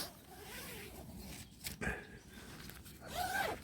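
A zipper is pulled open on a pilgrimage bag holding a tent, giving a few close, quiet rasping pulls with pauses between them.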